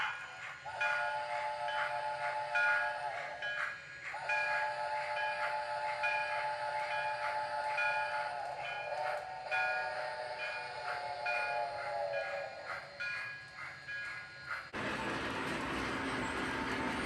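A model train on a New York Central Railroad layout rumbles along steadily while its horn sounds in long sustained blasts, followed by a sudden harsh burst of noise near the end.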